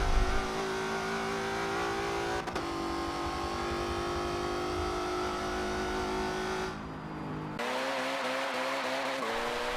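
A car engine in the Forza 7 racing game revs hard and steadily, its pitch climbing and holding through gear changes, with a sudden shift and brief dip near the end, loud and continuous with no talk.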